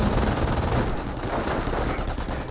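Sustained machine gun fire in the World War II strategy game Company of Heroes, with MG42 and rifleman squad combat, a dense continuous rattling burst that stays loud throughout with no speech over it.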